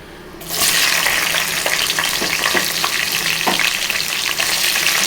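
Thin, long-sliced onions hitting hot oil in a pan, bursting into a loud, steady sizzle that continues throughout, with a few soft stirring knocks in the background.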